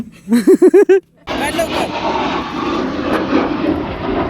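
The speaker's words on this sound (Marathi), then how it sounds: "इथं आमच्या इथनं खालनं सारखीच विमान चालले आहेत" After a brief sung or hummed phrase, a loud, steady roar of an airplane engine takes over and continues, broad and rushing, as if passing overhead.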